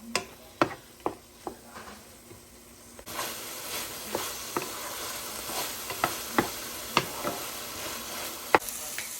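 Stir fry sizzles in a gigantic skillet, a soft continuous frying hiss punctuated by regular sharp clicks and scrapes of a utensil stirring, the sizzle swelling louder partway through.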